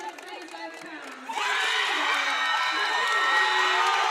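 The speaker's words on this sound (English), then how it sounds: "Very excited group behind us, cheering for Miss yeah, they're Aarons. all the Nevada fans right back there." Nevada fans at a high school girls' wrestling state championship tournament break into loud, sustained cheering and whooping from an arena crowd, rising sharply after a quieter stretch of chatter.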